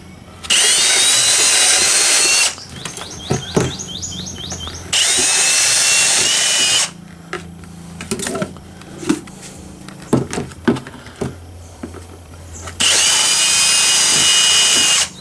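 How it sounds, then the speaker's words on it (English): A power drill whines loudly in several separate bursts of a few seconds each, drilling 1/8 inch holes, with clattering and handling noises between them. "these were just the 1/8 inch holes that I drilled in them"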